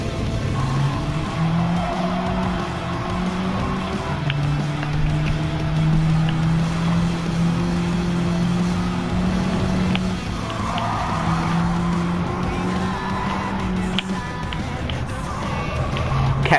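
Racing car engines in Gran Turismo 7, droning and shifting pitch steadily at close range as the cars run laps, with tyre noise and occasional talk over the top.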